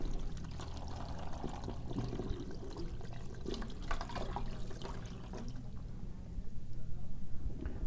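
Brine pours into the cavity of a turkey, a continuous splashing, gurgling flow of liquid that thins toward the end, with faint background noise.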